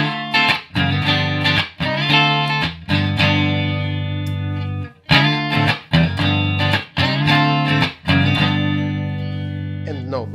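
Electric guitar played through a Victor Custom Workshop Diesel De Luxe preamp with its bass boost engaged, chords strummed in bursts and left ringing, no talking.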